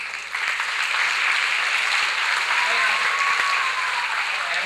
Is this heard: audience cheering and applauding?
yes